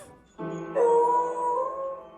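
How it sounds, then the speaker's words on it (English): A dog barks and whines while pressing down piano keys, a sustained sounded chord ringing under its voice, close and fairly loud for about two seconds. "He's just pushing the keys down and barking."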